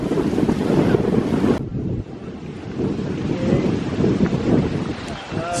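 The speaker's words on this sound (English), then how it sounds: "Storm has passed, but it's still really breezy right now." Strong post-storm breeze on the Florida Keys coast, loud continuous wind buffeting the microphone with a rumbling roar, joined by the wash of waves and surf.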